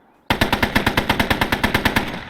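A .50 caliber machine gun mounted on a Sherman tank in Call to Arms fires one sustained burst of about sixteen rapid, evenly spaced heavy shots, loud and close, with no talk over it.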